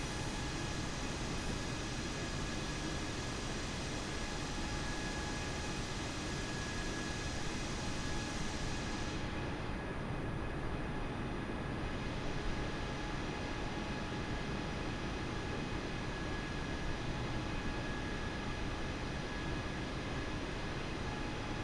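An Airbus A320neo airliner cruises in Microsoft Flight Simulator, heard as a constant broadband roar of engines and rushing air. The drone stays steady and even throughout.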